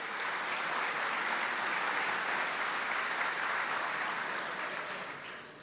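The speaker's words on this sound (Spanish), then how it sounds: "Un aplauso para ellos." An audience at an agricultural genetics conference gives the speakers a round of applause, continuous dense clapping held at steady strength before tapering off at the end.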